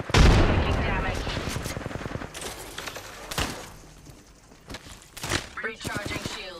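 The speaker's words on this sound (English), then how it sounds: "Opening fire." Rapid automatic gunfire in the video game Apex Legends, loud bursts with sharp shot transients, a heavy opening volley and scattered later shots, mixed with game effects and voice lines.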